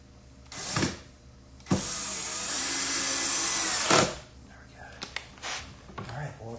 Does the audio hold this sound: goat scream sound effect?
no